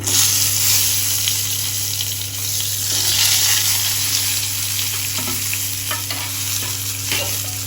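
Eggplant slices frying in oil for a curd eggplant dish, a loud, close, continuous sizzle with occasional bursts of crackle and spatter near the end, heard alone without talk.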